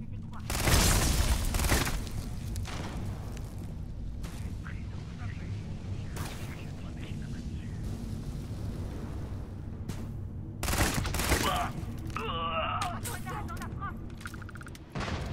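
A grenade blast in the sci-fi game Starfield, a loud boom with a broad rumbling burst that decays under steady game ambience, with further explosive bursts later; someone talks in French throughout.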